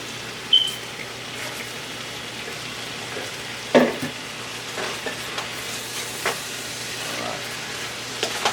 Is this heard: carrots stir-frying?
yes